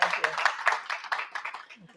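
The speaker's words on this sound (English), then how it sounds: "Let's give her a round of applause." Audience applause at an International Women's Day event: a steady patter of many hands clapping at moderate volume, tapering off toward the end.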